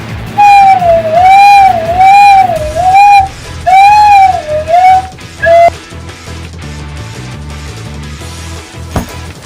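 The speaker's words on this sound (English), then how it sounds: "Makes a good slide whistle." A flute head joint blown like a slide whistle, giving several loud, breathy tones that swoop up and down in repeated arcs, then stop and give way to quieter background music.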